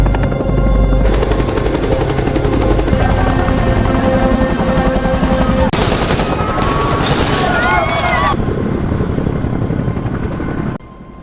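A loud helicopter roars continuously through a film action scene while bursts of rapid gunfire erupt, growing dense and crackling in the middle before cutting off abruptly near the end.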